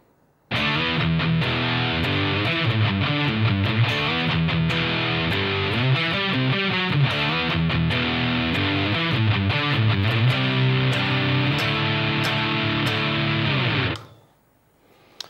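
A heavily distorted metal rhythm guitar riff chugs and churns continuously, dense and loud with rapid palm-muted attacks and chord changes, ending abruptly into quiet.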